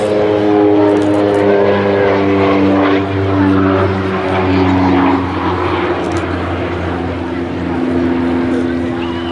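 An OV-10B Bronco twin-propeller aircraft flies a display at the Midlands Air Festival, its loud, droning propeller hum sustained and close, with an announcer talking over it.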